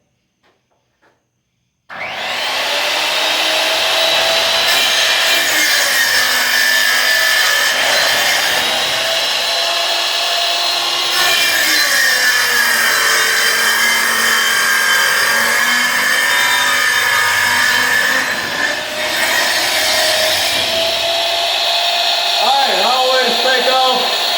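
Machine saw cutting through plywood to trim off the factory edge in a cabinet shop, a loud steady whine and rush starting abruptly after a brief pause and running continuously for over twenty seconds with slight pitch dips.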